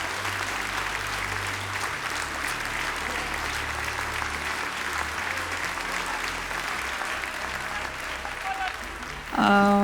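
Sustained applause from a large audience at a film awards ceremony, a dense steady wash of clapping that runs nearly the whole time before a voice begins speaking at the very end.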